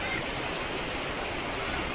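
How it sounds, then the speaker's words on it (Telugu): Steady rain falling outdoors, a continuous broadband hiss like water streaming and splashing on surfaces, even in level with no talking. "చూడండి రోజు వాన ఎలా వస్తుంది."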